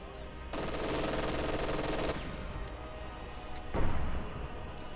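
An MG42 machine gun in Company of Heroes 2 rattles off a sustained burst of rapid fire, followed by quieter battle noise and a shorter second burst, with a faint voice in the background.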